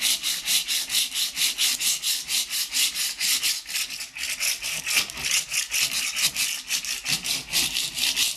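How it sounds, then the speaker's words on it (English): Rhythmic back-and-forth scraping of tile being scuffed up before painting, around twenty quick even abrasive strokes, close and fairly loud with no voices. "I'm going to scuff up the tile a bit so it'll take the paint"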